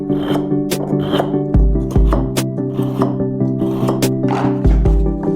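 A dull knife stroked across a pair of sharpening stones set upright in a drilled wooden stand, giving repeated rasping, grinding scrapes in a steady back-and-forth rhythm, close and fairly loud.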